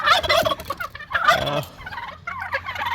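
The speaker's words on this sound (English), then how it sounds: "I couldn't let you guys go without checking out the turkeys here." Several Bourbon Red turkeys gobble loudly in quick overlapping bursts, close by, with a brief lull before more calls resume.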